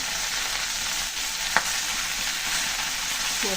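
A spice paste of onion, garlic and ginger frying in a pan for a prawn and Malabar spinach dish, making a dense, steady hissing sizzle with a single sharp stirring knock partway through.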